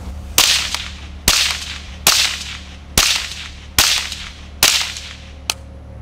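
An FN P90 fires 5.7 rounds through a Dead Air Primal suppressor outdoors, six sharp cracks spaced about a second apart, each with a decaying echo tail, followed by a fainter final click.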